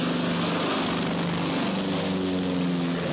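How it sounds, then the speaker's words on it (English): Propeller airplane flying overhead, a loud, steady droning engine roar with throbbing blade pulses that fills the whole stretch without pause. "Them airplane fellas are always flying around here."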